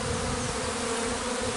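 A swarm of honey bees just out of their hive and clustering around the queen, heard as a steady, dense buzzing drone up close with no pauses.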